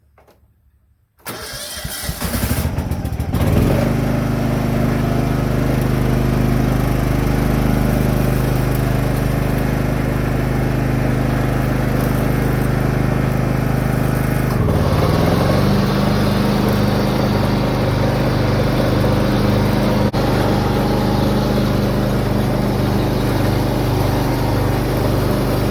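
A John Deere F525 lawn mower's engine cranks and starts, then runs at a loud, steady idle close by, with a brief dip and recovery midway and no talking.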